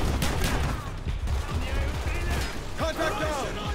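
Dense gunfire from the Call of Duty: Black Ops campaign, rapid bursts of shots and explosions packed close together and loud, with a voice talking over the battle.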